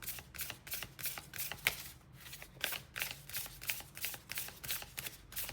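Tarot-style self-care cards being shuffled close up, a rapid run of crisp riffling bursts repeating in a steady rhythm with brief pauses between, heard alone without talk.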